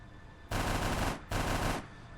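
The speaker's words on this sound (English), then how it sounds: "So it has a heavy stubber." A heavy stubber machine gun in the ARMA 3 Warhammer 40k mod fires two long, loud, roaring bursts, each under a second, separated by a brief pause.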